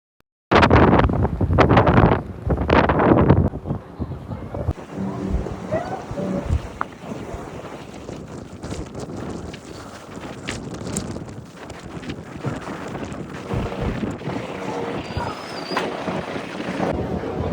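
Wind blusters loudly across the microphone aboard the Staten Island ferry, a strong buffeting rush at first that settles into a steady, lower roar of wind and water.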